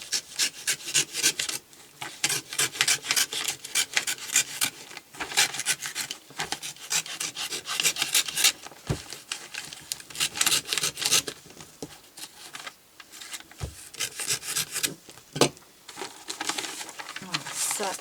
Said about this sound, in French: Je vais prendre ma lame et puis je vais couper comme ça.